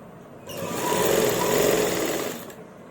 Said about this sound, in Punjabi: ਐਦਾਂ ਆਪਾਂ ਸਲਾਈ ਲਾ ਲਾਂਗੇ ਜੀ